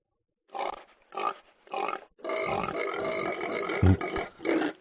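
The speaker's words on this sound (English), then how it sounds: "let's see if we can hear the pigs" Feral super pigs outdoors giving harsh, rough grunts: three short separate bursts, then a longer run of overlapping guttural grunting and squealing, loud and close.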